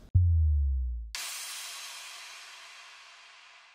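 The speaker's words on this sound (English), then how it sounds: "I added this sub drop and then a crash and a white noise impact." A deep synthesized sub drop booms for about a second, then a sharp crash and a bright white-noise impact hit together and wash out in a long, slowly fading hiss, with no voices.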